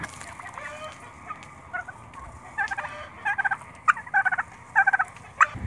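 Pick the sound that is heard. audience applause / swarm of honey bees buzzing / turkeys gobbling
turkeys gobbling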